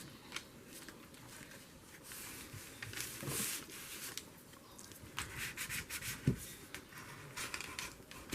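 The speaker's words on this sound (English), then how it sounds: "This is my fancy bone folder." Soft, quiet rubbing and scraping of a bone folder pressed along folded paper that has some glue on it, in short repeated strokes with a few sharper scuffs.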